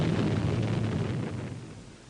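Rumbling roar of a British nuclear bomb test explosion on declassified colour film, a broad sustained blast noise that gradually fades away over a couple of seconds, with no voices.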